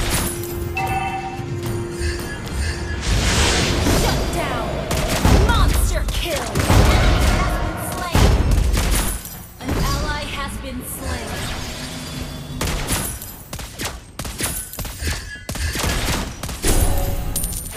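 Rapid gunfire from the hero Lesley in the video game Mobile Legends, dense bursts of shots and impacts over game music, with in-game voice lines over the top.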